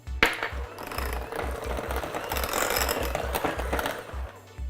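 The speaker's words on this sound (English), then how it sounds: "just whip those together until it's smooth and creamy" An electric mixer whips butter, vanilla and salt for a chocolate mayonnaise cake batter. It gives a close, steady whirring with a pulsing low rattle as the beaters knock the bowl, running without pause.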